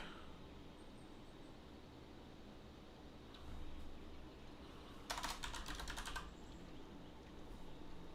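Keys tapped on a computer keyboard sound faint and distant at first, then a short, rapid burst of keystrokes comes in, against quiet background hiss.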